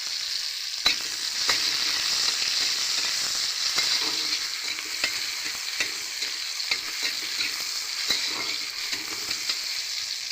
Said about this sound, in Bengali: দেখুন টমেটোটা ভাজা ভাজা হয়ে গিয়েছে।